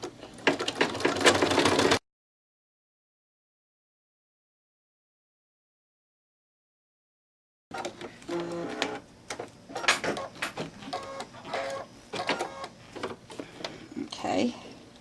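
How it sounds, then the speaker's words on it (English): Embroidery machine stitching the outline of an in-the-hoop luggage handle wrap: a fast, rhythmic mechanical clatter, heard before and after a silent gap and mixed with talking. "it's going to stitch the outline."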